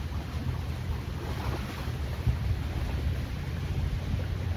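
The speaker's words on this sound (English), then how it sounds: "Sorry about the wind if it's too loud." Wind blowing near the water by the docks, a constant broad rushing roar buffeting the microphone at low level, with no voices.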